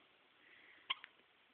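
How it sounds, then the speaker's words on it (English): A baby gives one sharp, soft hiccup, followed by a smaller second catch, close and quiet against a low hush. "You got the hiccups."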